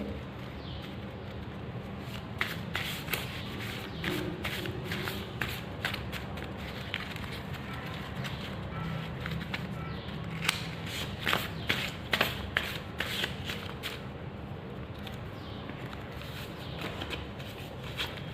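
Soft, continuous riffling and tapping of archangel oracle cards being shuffled by hand, close and fairly quiet, with repeated light flicks throughout and no talk.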